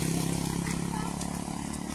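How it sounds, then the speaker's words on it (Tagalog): An engine-driven water pump chugs steadily nearby with a continuous low mechanical rumble and rattle, a voice faintly present over it. "Makina na water pump."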